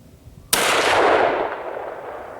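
A single loud rifle shot from a Remington 700 ADL Varmint chambered in .308 Win, fired at an outdoor range, cracks sharply and then rolls off in a long fading echo, with no talking.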